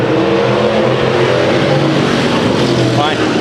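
Race cars circling Chowchilla Raceway in a heat race, a loud continuous engine roar with shifting pitch as cars pass, overlaid by a commentator talking throughout.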